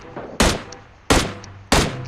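PUBG Mobile gunfire: three sharp, loud shots spaced roughly two-thirds of a second apart, each with a short echoing tail, over faint background noise.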